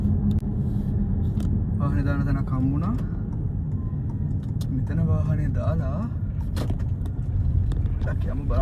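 A car rumbles steadily up close as it comes to a stop, with people talking over the engine noise throughout.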